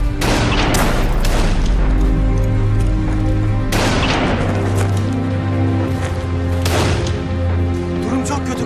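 Loud, repeated booming blasts and crackling gunfire of a 1915 Gallipoli battle roll continuously, with heavy explosions landing roughly every three seconds over a constant rumble.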